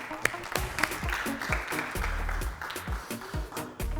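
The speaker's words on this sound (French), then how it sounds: "Applaudissements pour Lorraine" A studio audience claps for a contestant on a stage show, irregular applause that starts with sharp claps, stays moderately loud for a few seconds, then thins out.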